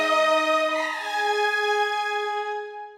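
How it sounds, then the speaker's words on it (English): A sustained orchestral chord from the VSL Big Bang Orchestra Black Eye library, with the high strings emphasized: smooth, bright and rich in harmonics, swelling slightly before tapering off. "You can just emphasize the high strings in here."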